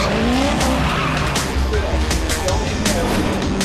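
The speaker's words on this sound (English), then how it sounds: "It was far from perfect conditions as the cars headed off the start line for race 2" Race cars pull away from the start line in Australian Formula 4 Championship race 2 at Phillip Island, Victoria, in poor conditions: loud engines and tire noise with spray, and a commentator speaks over them.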